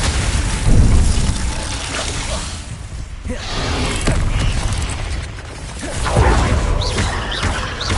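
A Glacius spell is cast in a Harry Potter video game amid loud, dense combat: whooshing bursts, booming impacts and mechanical clatter that swell and fade continuously.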